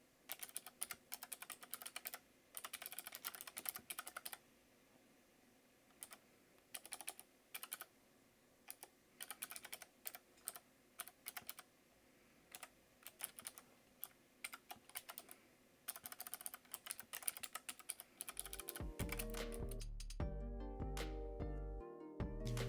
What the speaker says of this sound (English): Here's a quick typing test.